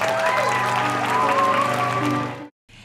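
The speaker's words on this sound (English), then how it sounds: "Let's give him a round of applause." Audience applause at a school fundraiser event honoring a top child fundraiser for St. Baldrick's, a steady dense clapping with tonal background hum that cuts off abruptly near the end.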